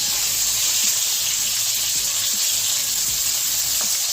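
Bitter gourd pieces fry steadily in hot oil for Bengali shukto, a dense continuous sizzle and hiss with faint stirring taps underneath, close and unbroken.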